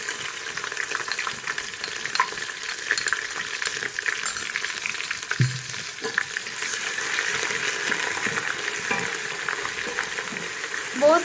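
Ginger garlic paste sizzles and fries in hot oil with browned onions for biryani, a steady loud crackle with occasional stirring clinks throughout.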